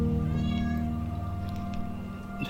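A house cat meows in a drawn-out, plaintive cry, fairly close but soft, over a steady low hum.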